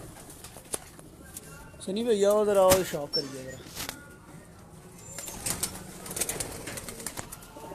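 Breeder pigeons coo in a loft, one bird giving a clear, rising call, with bursts of wing flapping and someone talking over the birds.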